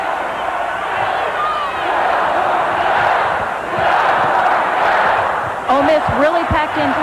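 A 1986 NCAA women's basketball Midwest Region final between Texas and Ole Miss, with the arena crowd roaring in a steady, loud wash that swells midway, joined near the end by squeaking sneakers and bouncing ball sounds.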